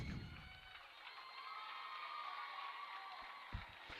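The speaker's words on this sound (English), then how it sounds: "The Kremlin Hillsdale faithful giving him a round of applause" A crowd at a high school boys basketball game, Kremlin Hillsdale at Balko, applauds and cheers as a player fouls out, a sustained far-off roar of clapping and shouts from the gym stands.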